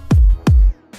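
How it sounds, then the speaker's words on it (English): Vengeance kick drum sample in an electronic build-up: two deep, punchy kicks with a falling pitch sweep and a booming low tail, evenly spaced and loud, then a faint third onset cut short. "I used Vengeance kick"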